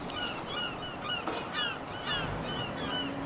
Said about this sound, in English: They are tall, they are slender, they make a nice honking noise